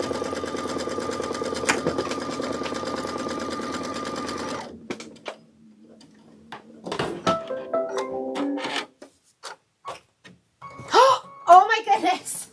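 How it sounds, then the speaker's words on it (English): A Kimberbell quilt embroidery machine hums along, stitching a ladder quilt block in a steady, fast mechanical drone for several seconds, then stops, leaving short clicks, handling knocks and a person talking. "I'm just going to let it stitch the whole thing."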